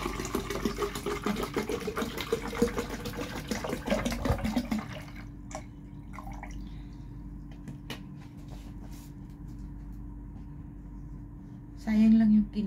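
Mineral water poured from a bottle into a bubble fish lamp, a steady splashing trickle that gives way to quieter drips, with talking over the first part.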